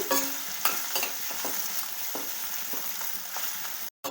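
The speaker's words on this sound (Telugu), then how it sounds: "ఉల్లిపాయ పచ్చివాసన పోయేదాకా వేపుకున్నామండి." Thinly sliced onions fry in oil for chicken gravy, giving a steady sizzle broken by repeated scraping stirs, close and fairly loud, with a brief dropout near the end.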